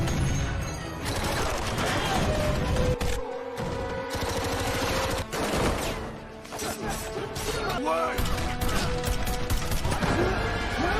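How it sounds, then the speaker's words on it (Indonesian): Shootout gunfire from The Expendables film: dense, loud bursts of automatic fire and heavy impacts run almost continuously, mixed with crashes and a score, with brief gaps between volleys. "Setelah itu terjadilah baku tembak"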